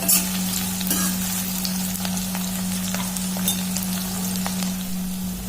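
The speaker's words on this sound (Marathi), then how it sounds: "कांदा चांगला तांबूस होईपर्यंत होऊ द्यायचं।" Onions frying in a pan toward golden brown for a mughlai mutton curry, a dense, steady close sizzle with faint crackles and occasional stirring, no talk.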